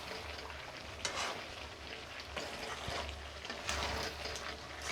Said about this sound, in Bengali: নাড়ছি খুব ভালো করে